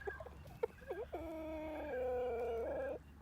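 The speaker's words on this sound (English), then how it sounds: "Oh, what are you clucking about, Dante?" A chicken clucks and gives a drawn-out, wavering call close by, loud and alone against a quiet background.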